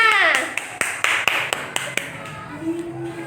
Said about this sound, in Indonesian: Jangan lupa tepuk tangan untuk kelompok 3.